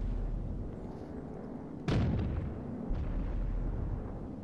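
A Russian cannon fires once in a tank battle video game, a single sharp, heavy boom that decays quickly over a low engine rumble, followed by a fainter thud about a second later.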